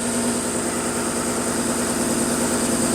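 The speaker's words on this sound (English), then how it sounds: "She's idling!" A 1979 Honda CBX motorcycle engine, newly restored and on its first start, idles steadily and close up with a constant even hum and no talk over it.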